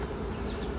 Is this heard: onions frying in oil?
no